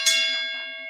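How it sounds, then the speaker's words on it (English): A single bell struck once for a shout-out rings out with a bright metallic attack and a sustained tone that slowly fades over about a second, clear and close, with no voices. "Let's ring the Ali Bell for them."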